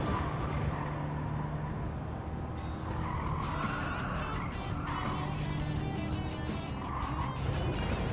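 A car in Gran Turismo 7 loses rear grip and oversteers, tires squealing and skidding in long whining streaks over a steady engine drone, fairly close and continuous.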